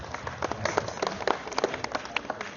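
An audience claps at a Bollywood theme park show, a lively patter of scattered hand claps from a smallish crowd, fairly close and irregular, with no talking over it.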